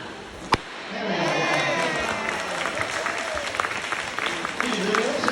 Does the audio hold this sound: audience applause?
yes